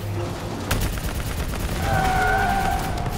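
Video game gunfire from Call of Duty Black Ops 3, with a burst of shots cracking amid a dense, noisy battle soundscape, briefly punctuated by a sharp report, plus a faint whine of distant machinery toward the end.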